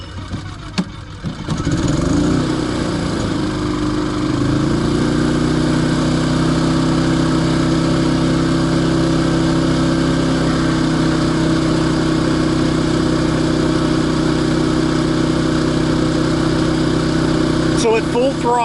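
A Champion dual fuel generator pull-started after a couple of tugs, catching and settling into a loud, steady running drone that holds to the end.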